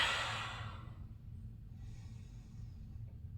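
A slow breath during a forward-folding yoga pose: a soft, close exhale fading out, followed by a faint quieter breath over low background hum.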